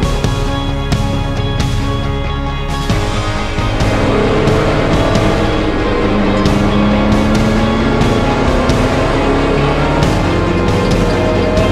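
A front-wheel-drive car with 280 brake horsepower driven hard, its engine roaring loud and close with a constant dense drone and rising and falling revs as it accelerates, and no voices over it.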